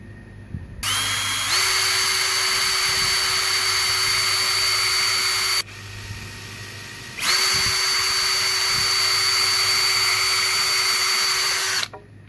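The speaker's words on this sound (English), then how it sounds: "Now you can see the 3 holes we just drilled." A power drill boring holes in wood whines steadily for several seconds, stops briefly, then drills again for about five seconds more, loud and close.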